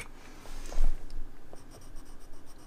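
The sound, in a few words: sharpening a large colored pencil with pencil sharpener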